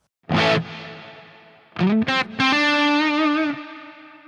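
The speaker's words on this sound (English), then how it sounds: "change the type of reverb, for example, the plate. I like it. Let's engage it" An electric guitar runs through the IK Multimedia Tonex plugin with plate reverb engaged: a single distorted note rings and decays, then a quick choppy figure lands on a sustained note that cuts off, leaving a short reverb tail.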